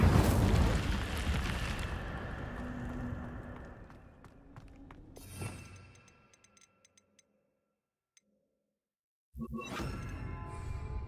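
A fire spell cast in a Harry Potter video game: a loud burst of roaring, crackling flame and rumble that swells and fades over several seconds, followed by near silence with faint ticks, then another dense noisy burst near the end.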